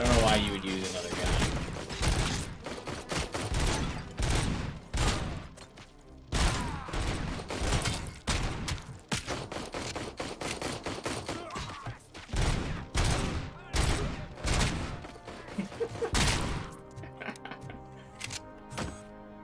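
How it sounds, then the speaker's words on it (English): A gun in RoboCop: Rogue City fires long rapid volleys of loud, punchy shots in dense bursts with short pauses, close and dominant, with a voice talking at times between the shooting. "The fact that there's no recoil on this gun is so satisfying."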